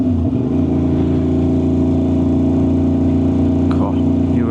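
An Aprilia RS660 parallel-twin fitted with an SC Project exhaust drones loudly and steadily on a test ride, a constant mid-pitched engine hum with wind noise close to the rider.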